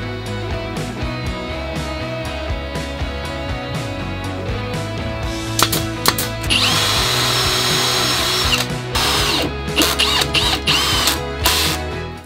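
A power drill pre-drills holes and drives screws into wood while a simple shop cart is built, with bursts of whirring motor that stop and start, then one longer sustained run, close and loud, with no talk.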